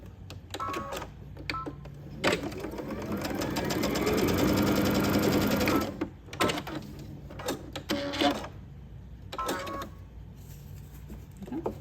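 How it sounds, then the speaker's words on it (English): A sewing machine chain-stitches tote bag pieces in a brief burst, then a longer steady run of fast mechanical stitching, followed by short stop-start bursts with clicks and handling noises in between. "you could just chain stitch the next 2 that are together that are exactly the same"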